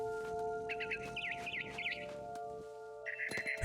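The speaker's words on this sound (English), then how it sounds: "Then I heard chirping outside my window. It was a barn swallow" A barn swallow chirps outside a window in What Remains of Edith Finch, quick twittering bursts repeating at close range over a steady ambient hum, with no talk.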